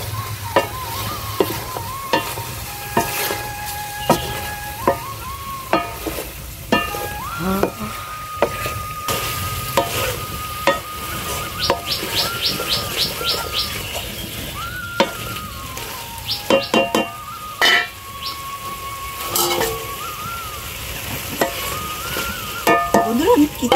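Snake gourd (chichinga) frying in spice masala in a pan, stirred with frequent spoon scrapes and knocks over a steady sizzle, with occasional tonal ringing sounds in the background.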